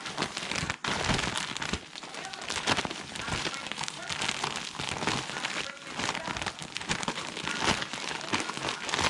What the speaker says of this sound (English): I close the Ziploc and mix it